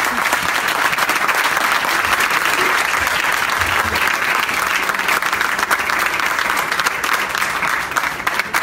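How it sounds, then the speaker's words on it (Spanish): Sustained audience applause after a talk on money, dense steady clapping at even loudness throughout with no voices on top. "Un aplauso para él."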